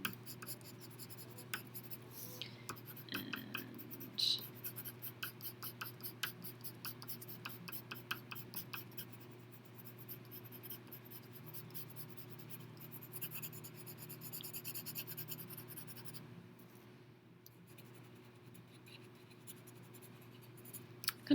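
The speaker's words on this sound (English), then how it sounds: "Really short, sporadic, crazy brush strokes or pencil strokes." A pencil scribbles short, sporadic strokes on paper while shading grass on a drawn landscape mountain, a steady run of quick, faint scratching taps heard close and alone.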